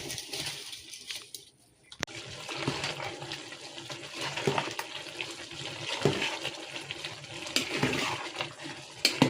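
Water at a rolling boil in a pot for mutton biryani, before the rice goes in, gives a steady close bubbling and churning with no voices.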